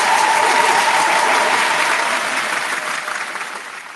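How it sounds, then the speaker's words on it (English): Studio audience applause for a hip-hop beat producer on a radio mixshow, a dense, steady wash of many hands clapping that stays loud throughout and tapers slightly toward the end, with no talk over it. "Round of applause for the producer bag."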